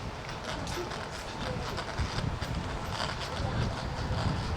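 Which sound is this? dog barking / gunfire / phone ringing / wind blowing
wind blowing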